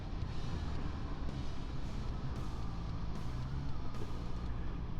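Honda motorcycle fitted with E-Clutch slowing to a complete stop, a low rumbling engine with wind noise and pulsing gear changes, close and continuous, no speech.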